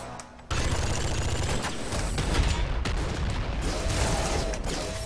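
A super splinter gun fires continuously in the top-down shooter Nuclear Throne, producing a dense, loud barrage of rapid shots that starts abruptly and runs without pause.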